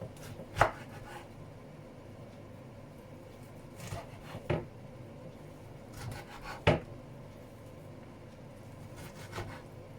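A knife slices blanched spinach on a cutting board, making a handful of sharp, separate chops spaced a second or two apart over a quiet room hum, close and with no talking.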